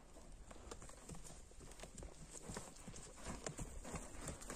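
A horse trots along with quick, irregular clip-clop hoof beats on hard ground, fairly faint and steady throughout, without talk.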